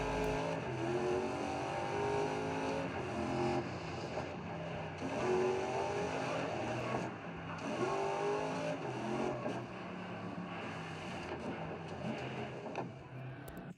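A racing car engine in the video game Grid Legends drones steadily, its pitch climbing through gear changes again and again, with no talking over it.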